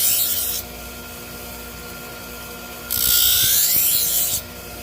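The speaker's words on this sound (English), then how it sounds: "And I just kind of try to just edge sharpen it on this side a little bit." A kitchen knife edge is sharpened in two long, loud, close abrasive strokes separated by a quieter pause, each a harsh grinding rasp.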